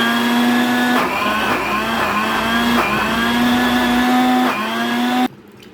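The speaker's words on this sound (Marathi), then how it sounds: "थंड थंड अशी साय मिक्सरातून फिरवून घेते" A mixer grinder whirs loudly and steadily churning cold milk cream, its motor pitch dipping and recovering in pulses, then cuts off abruptly near the end.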